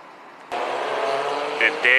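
Aston Martin Vantage V8 car engine, a sudden rise into a steady revving tone that stays loud and close, stepping up again near the end, with voices present.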